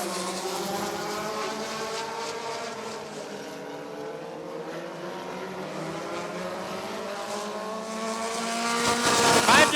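Midget race cars at Rockford Speedway in a feature race roar in a dense pack of rising and falling engine tones, loud and close, with a pass-by swelling at the end and faint commentary underneath.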